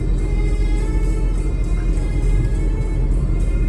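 Volkswagen Polo, 13 years old, cruising on a highway at night with a steady low engine and road rumble inside the cabin, continuous and even throughout.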